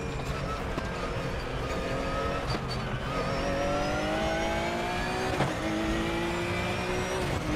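RUF race car engine in the RaceRoom racing game, a continuous loud droning roar with rising and shifting pitch as the car accelerates through gears, steady throughout.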